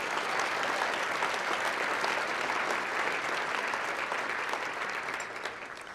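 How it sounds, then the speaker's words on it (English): An audience at a charity gala applauds its sponsors with steady, dense clapping that stays full and even before easing off slightly at the end. "Let's give all of our sponsors a warm round of applause, please."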